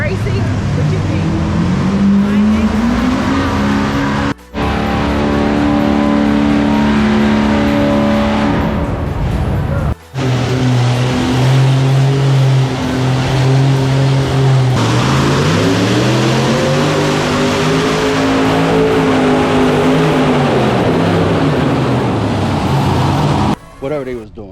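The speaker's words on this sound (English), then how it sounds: "I never been to a truck tractor pull." Engines roar and rev at a truck and tractor pull, a loud, continuous, strained drone whose pitch climbs and falls over about twenty seconds, with two brief dropouts, while people talk over it.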